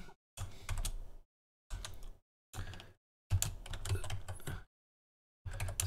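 Keys clatter on a computer keyboard as code is typed, in several quick bursts separated by short pauses, close and fairly quiet with no voices.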